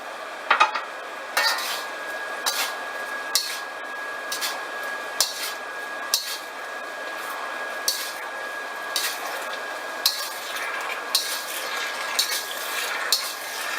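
A cornstarch slurry is stirred into green beans and roast pork in a wok, with rhythmic scraping and clinking strokes about once a second over a soft, steady simmering hiss.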